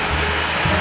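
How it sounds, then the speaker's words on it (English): A vacuum cleaner with its hose reversed to blow air out roars in a steady, loud, close whoosh of rushing air and motor hum, unbroken for under a second. "We're gonna use the blowing capability of our vacuum cleaner and make an air hockey table."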